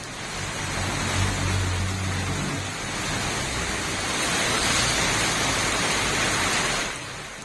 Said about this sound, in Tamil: பகுதிகளில் கனமழை பெய்தது